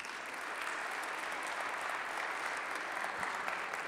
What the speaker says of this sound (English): One more round of applause for the students.